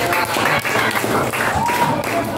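A sixth-grade class claps hands for a classmate, a dense, fairly loud burst of many children clapping together in a room, with voices mixed in underneath.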